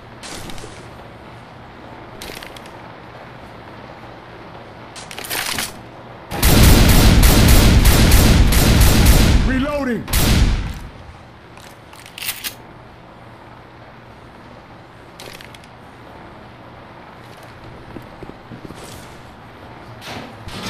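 Sustained burst of gunfire in Left 4 Dead 2, loud and dense for a few seconds, then a few scattered single shots over a low background rumble; no talking.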